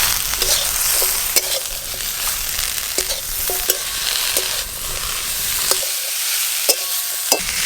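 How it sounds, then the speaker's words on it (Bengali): Bottle gourd greens and stems stir-fried with potato and eggplant in a pan, a continuous close sizzle punctuated by regular scraping clicks of the spatula, with no talking. "লাউ ডাঁটা শাক আলু বেগুন সব কিছু ভালো করে ভাজা ভাজা হয়ে গেছে"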